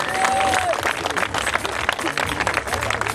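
Crowd applause at a motocross prize ceremony, a steady wash of clapping from the audience beneath an announcer's voice over the public address.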